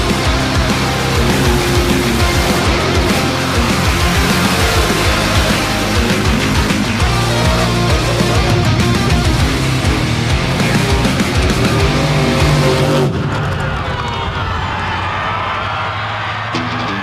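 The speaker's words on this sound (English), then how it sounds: "The cackle of forced induction alcohol-injected horsepower hits the Lomond Lions." Forced induction, alcohol-injected mud bog race engines roar at the Open Cut Tire Championship finals, a loud, continuous, crackling blast of horsepower that holds steady before dropping away near the end.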